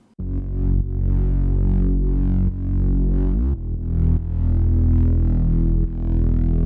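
A distorted synth bass plays sustained, buzzy low notes in a slow pattern, loud and upfront with gritty harmonics and no other sounds.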